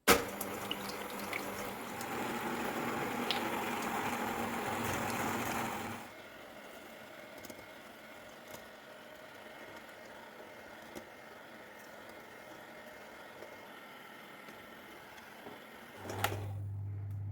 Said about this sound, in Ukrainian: включаємо міксер на малих обертах, так щоб появилася пінка